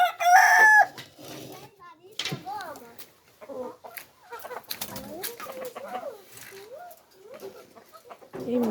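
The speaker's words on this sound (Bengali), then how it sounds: "এই মোরগটা অনেক দুষ্টু" A feisty domestic rooster in a yard where a hen sits on eggs near hatching gives a loud crow, followed by scattered clucks and bird calls with brief voices in between.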